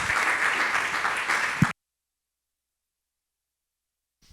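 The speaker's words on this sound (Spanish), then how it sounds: "Eso es lo que principalmente queremos saludar con unas fuertes palmas." Applause for a speaker at a university talk on democracy, a dense burst of clapping for about a second and a half that cuts off abruptly, followed by silence.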